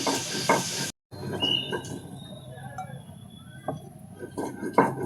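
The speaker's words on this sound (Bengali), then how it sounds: "কড়া গরম করতে বসিয়ে দিয়েছি। দিয়ে দেব তেল।" White cooking oil goes into a hot kadai for frying katla fish, giving a soft sizzle with light metal clinks and stirring knocks, close and fairly loud, broken by a brief silent gap near the start.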